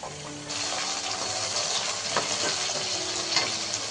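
Chopped tomatoes hit onions browning in hot oil for Puneri misal, setting off a sudden broad sizzle that holds steady with a couple of stirring clatters, close and moderately loud, no speech.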